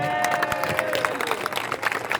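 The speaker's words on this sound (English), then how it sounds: "Il faut qu'on les applaudisse, s'il vous plaît." A crowd applauds flag bearers at an outdoor gathering, with scattered clapping and cheering at moderate distance under a lingering tone.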